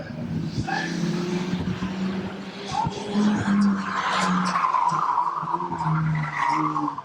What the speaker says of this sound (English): Oh, that's a nasty hit into the fence.